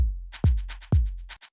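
Clean shaker rattles in a pattern built off a deep electronic kick drum, with two booming kick hits interleaved among brief bright shakes, close and unaccompanied by voices.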